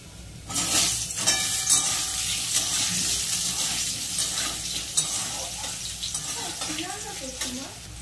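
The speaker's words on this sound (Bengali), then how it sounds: "আলু তো ভাজা চলছে।" Potatoes fry in the oil left over from frying fish, with black and white cumin in the pan, giving a steady sizzle, scraping stirs and a faint trickle of water.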